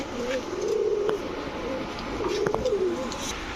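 Golla pigeons coo close by in a loft, soft rolling coos repeating in two or three phrases over a low background murmur.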